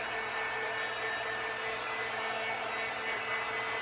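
Hair dryer blowing on an appliance decal to heat it, a steady continuous whooshing fan-and-motor drone, close and even, no talk.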